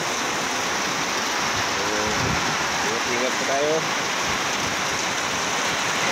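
A dense, steady roar of heavy rain with wind pours throughout, close and loud, with a voice speaking briefly beneath it.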